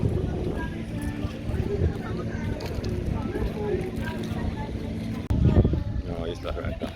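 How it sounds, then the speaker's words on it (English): Passenger boat full of tourists travelling between Davao and Talikud Island in Mindanao, Philippines: a steady low engine drone and water rush continue throughout, with a louder surge near the end and people talking over it. "Embarking now by boat."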